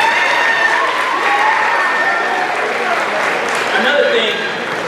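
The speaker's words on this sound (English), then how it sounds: "So give her a round of applause for that." Applause and crowd noise fill an athletics awards banquet hall, a sustained wash of clapping mixed with murmuring and a few cheers, voices audible through it before it eases off at the end.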